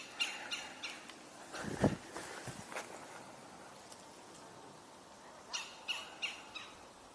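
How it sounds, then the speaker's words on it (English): Distant crow calls outdoors, several short harsh caws spaced across the stretch over faint background ambience, with one louder burst near the middle. "Hearing a crow in the distance again."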